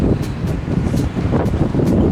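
Gusty wind buffets the microphone outdoors in a city with a low, rumbling roar, steady and close throughout.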